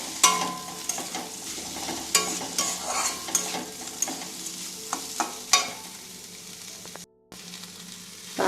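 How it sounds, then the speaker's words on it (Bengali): Red lentil dal stirred in a pan on the stove, with repeated scraping and clattering strokes of a spoon over a soft, steady sizzle, heard up close with no talk. "নাড়াচাড়া দিয়ে নেব, ডালটাকে একটু নাড়িয়ে নেব।"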